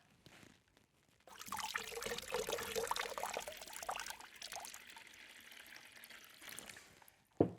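Water is poured into a measuring cup for a cake batter, a steady splashing trickle starting after a quiet moment, loud at first and then easing off before a brief knock at the end.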